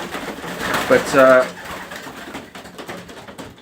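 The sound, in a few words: pigeons cooing in a loft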